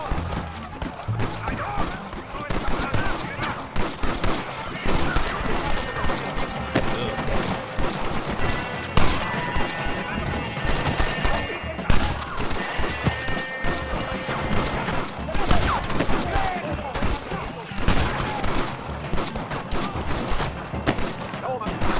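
Rapid, dense gunfire from a shootout in Red Dead Redemption runs continuously, with bursts of shots and impacts layered under game character voices and music.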